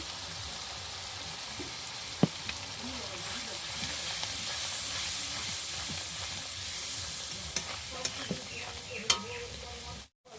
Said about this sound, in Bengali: এবার মশলাটা আমি নাড়াচাড়া করে একটু কষিয়ে নেব